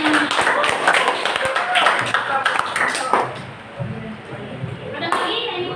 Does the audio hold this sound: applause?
yes